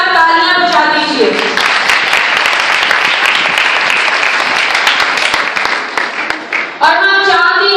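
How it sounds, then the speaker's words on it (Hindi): A church congregation breaks into loud, dense applause, many hands clapping together in a sustained roar that tapers off, with a voice speaking just before and as it fades. "इस बात के लिए जोरदार तालियां बजा दीजिए"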